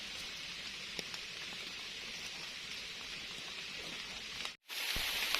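Rain falls in a forest during mushroom foraging, a steady soft hiss of drops on leaves with scattered nearby taps, briefly cutting out near the end before resuming.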